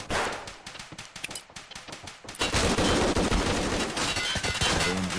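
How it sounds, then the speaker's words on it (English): Video game gunfire in a tournament match: a rapid string of sharp individual shots gives way to a dense, sustained burst of automatic fire, loud and continuous with no talk over it. "Magic, a hailstorm of bullets through the smoke that won't find a home."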